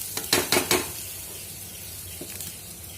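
Spices going into a sizzling pan and stirred in, a few quick bright clinks and scrapes of a spoon at the start, then a quieter hiss with light stirring.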